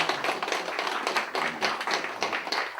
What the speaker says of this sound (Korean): 박수 한번 하시기로 해주세요